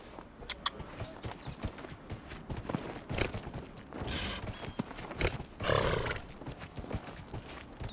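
Horse hooves clop at a steady walking rhythm in Dragon Age Inquisition, faint and close, with a low rumble of game ambience and occasional louder bursts.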